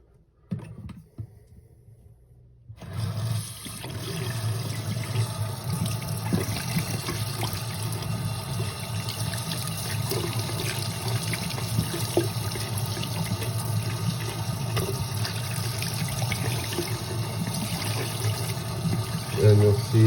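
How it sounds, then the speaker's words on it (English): Hot water pours steadily from a tap while a quartz banger is rinsed, a constant loud splashing hiss that starts abruptly after a few quiet seconds and runs unbroken to the end. "let's go over to the tap and hot water rinse this out"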